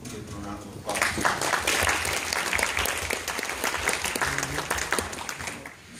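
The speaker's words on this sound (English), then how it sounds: "If we can give them a round of applause." An audience applauds the band at a True Parents' Day gathering, dense steady clapping that starts abruptly after a short pause and carries on loudly for several seconds before easing slightly.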